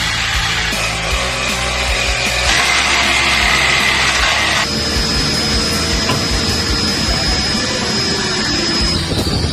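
Loud, steady metal cutting on a 2005-2015 second-generation Toyota Tacoma during a Rough Country 4-inch drop-bracket lift install, a continuous high whine that shifts pitch twice as the cut progresses, with no talking.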